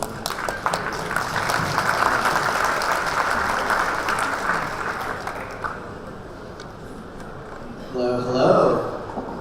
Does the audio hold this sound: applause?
yes